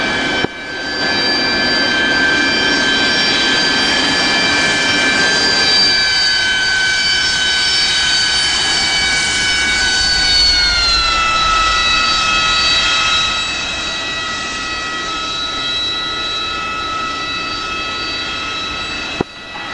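Jet engine of an F-18 on landing approach in the DCS World flight sim, a loud steady roar with high whining tones that sag in pitch midway and ease slightly toward the end.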